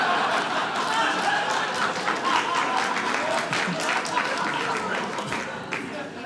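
A comedy club audience on a school-themed night cheers and claps together in a dense, steady wash of applause that holds for several seconds and eases off slightly toward the end.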